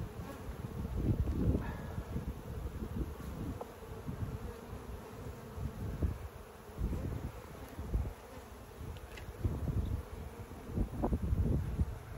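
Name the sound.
honeybees buzzing around an open hive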